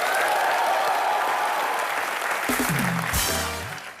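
Studio audience on a comedy show applauds loudly and steadily, a dense wash of clapping that tapers off as a band stinger plays near the end.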